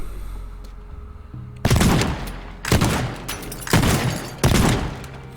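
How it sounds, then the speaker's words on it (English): Gunfire in the video game Teardown, shooting at a ceiling: four loud, close bursts of rapid shots, each about half a second long, separated by short gaps over a low background hum. "And we shoot off the ceiling."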